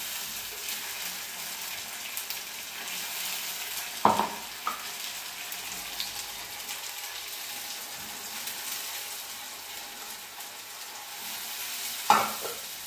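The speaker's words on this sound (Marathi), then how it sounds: "हे तेल सुटेपर्यंत हलवून घेऊ" Tomato masala with green chillies frying in oil, a constant close sizzle and hiss broken by a couple of sharp spoon knocks against the pan during stirring, with no voice over it.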